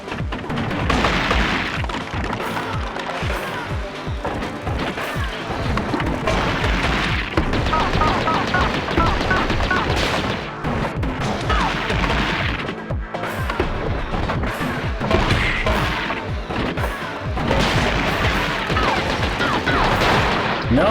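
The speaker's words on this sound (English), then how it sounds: "I'm just gonna stand over here and pop you with rockets." Rocket fire in the side-scrolling game Gato Roboto, a dense, continuous barrage of blasts and impacts running the whole stretch, loud and close, with a voice talking over parts of it.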